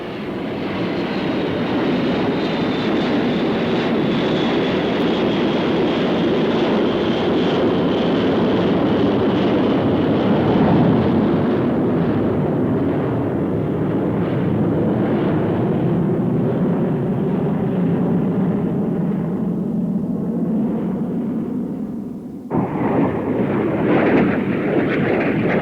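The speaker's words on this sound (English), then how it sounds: "The French Air Force's aerobatic team, the Patrol de France, flying V-tail Magister trainers." French Air Force aerobatic team Patrouille de France flying V-tail Fouga Magister trainer jets at an air show, a loud, continuous jet roar that swells and slowly fades over about twenty seconds before another pass cuts in.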